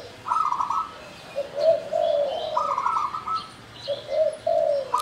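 A zebra dove (burung anggungan) outdoors in the morning gives a series of soft, bubbly cooing phrases, moderately close, repeated in short bursts with pauses between, no talk.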